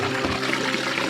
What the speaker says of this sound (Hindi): क्या बढ़िया पानी आ रहा है, फोर्स वाला